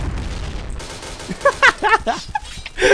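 A gold M4A1 rifle fires in Point Blank with a few short, loud bursts that come mostly in the second half, following a stretch of murkier game sound.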